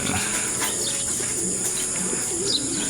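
Racing pigeons arriving at a loft during a summer race, with soft cooing and chirps over a constant hiss of insects and outdoor ambience.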